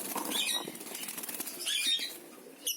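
Violet and blue-mask lovebirds flap their wings inside a cage in a bird farm, a couple of quick fluttering bursts with rapid papery beats and cage rattle, close and fairly soft, with faint chirps behind.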